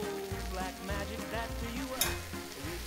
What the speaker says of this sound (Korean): 그래서 이렇게 볶는 거예요